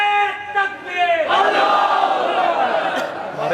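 A voice calls out in a drawn, tonal shout, then a large crowd answers together with a loud, sustained chant in response to a takbeer call at a religious gathering.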